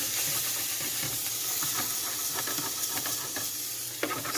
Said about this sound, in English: you take your spatula and you stir it